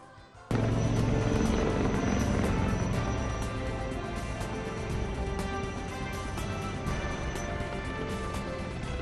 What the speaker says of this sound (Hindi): इंडियन एयरफोर्स की MI-17 हेलीकॉप्टर ने कोरोना वॉरियर्स, डॉक्टरों और पुलिसकर्मियों के सम्मान में कुछ इस अंदाज में फूलों की बारिश की